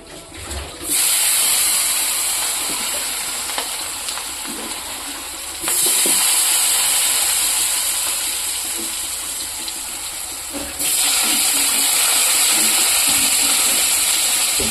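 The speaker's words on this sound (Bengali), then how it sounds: "এখানে তেলটা গরম হয়ে গেছে, আমি আলুটা ভেজে নেব" Potatoes frying in hot oil after fish, a loud steady hiss of sizzling that swells in three long surges, each easing slightly before the next, with no talk.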